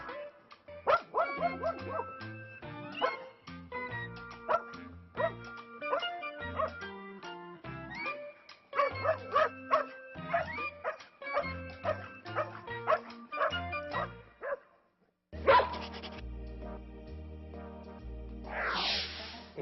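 A playful dog barks and yips in a frenzy, a long run of rapid high-pitched yaps and whimpers in bursts, loud and close, with a brief pause before a final flurry.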